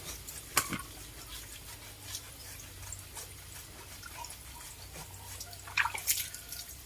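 Water trickling and dripping while a puppy is bathed, with quiet splashes and a few brief louder splatters, faint and intermittent over a low background.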